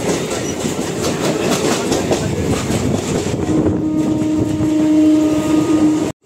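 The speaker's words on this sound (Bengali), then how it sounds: "আমাদের ট্রেনটা আস্তে আস্তে শিয়ালদায় ঢুকছে।" A passenger train slowly pulling into Sealdah station rumbles loudly with steady clickety-clack from the wheels. A thin sustained wheel squeal rises in the second half before the sound cuts off abruptly.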